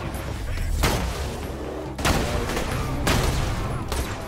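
Loud, steady gunfire in the Borderlands 2 video game, with three sharp grenade-like explosion bursts spaced about a second apart against a continuous dense roar of combat noise.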